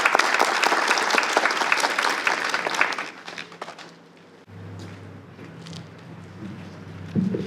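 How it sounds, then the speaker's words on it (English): An audience applauding loudly as a student walks to the stage at a literary competition reception, dense clapping that tapers off after about three seconds, leaving room noise and a low hum. "Let's give David a warm round of applause as he makes his way to the stage."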